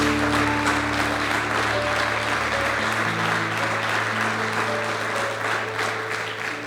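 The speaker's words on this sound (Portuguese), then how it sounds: "Pode aplaudir ao Senhor." A church congregation applauds loudly and steadily during a worship service, with sustained clapping filling the room and a low musical drone underneath.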